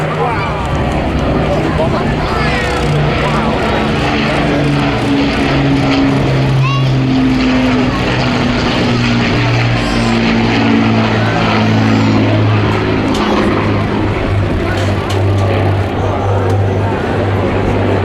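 An Avro Lancaster bomber of the BBMF flies past at the 2022 Southport Airshow, its loud droning piston propeller engines sliding down in pitch as it passes, while a commentator talks over the roar.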